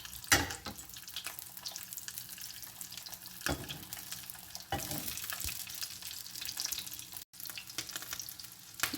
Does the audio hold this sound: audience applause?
no